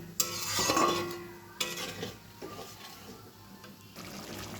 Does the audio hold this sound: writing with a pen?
no